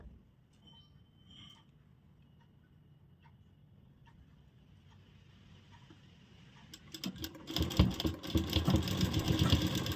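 Sewing machine stitching a zipper onto fabric: quiet handling and faint ticks at first, then the motor starts up near the end into a loud, fast, continuous rattling run of stitches, with no talking.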